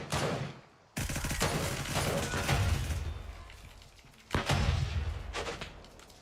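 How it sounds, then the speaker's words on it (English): Grenades and gunfire in the Gray Zone Warfare video game, with loud sustained bursts of explosions and shooting that cut out briefly, then resume with heavy close blasts. "I got grenades going off all around"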